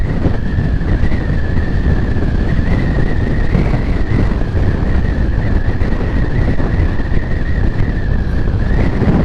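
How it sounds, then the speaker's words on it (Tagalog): Strong wind roars steadily into the microphone during a motorcycle ride, a loud constant buffeting rush with a droning tone running underneath throughout. "Ang lakas ng hangin."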